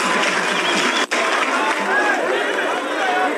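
An audience claps for an elder speaking at a Luhya gathering, a dense, steady wash of hands mixed with crowd chatter that drops out for an instant before rolling on.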